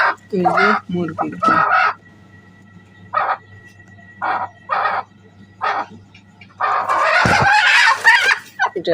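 A hen clucks close by in a series of short, separate bursts with pauses between them, ending in a louder, longer squawking burst.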